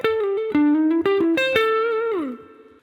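A minor pentatonic guitar lick linking the 5th and 4th positions, its notes picked one after another in a quick, even run, then a long held note that bends downward at the end, played alone with no talk.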